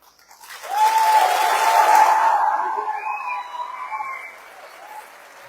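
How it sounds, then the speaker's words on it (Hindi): An indoor audience at a corporate event applauds loudly, the clapping swelling quickly and then slowly fading over several seconds, with a few faint whistle-like tones on top. "तो आपकी इन बहनों के लिए इतनी जोरदार ताली।"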